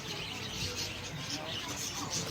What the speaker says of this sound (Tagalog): Look at the birds, Ellie.